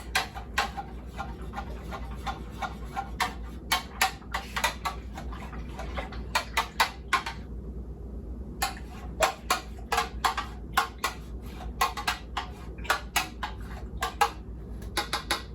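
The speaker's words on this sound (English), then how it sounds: "I'm going to stir both." A spoon stirs a glass of drink sweetened with simple syrup, producing close, bright clinks that repeat in irregular quick clusters with a brief pause midway.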